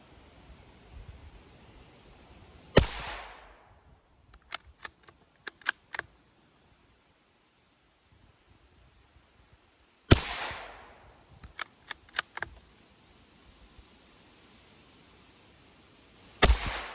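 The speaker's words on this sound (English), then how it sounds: "we're gonna take 3 quick shots at 50 to 75 yards" Three shots rang out from a Savage 93 bolt-action rifle chambered in .17 HMR, fired at a target 50 to 75 yards out. Each one is a loud, sharp crack that trails off into a short echo, and a few small clicks come between the shots.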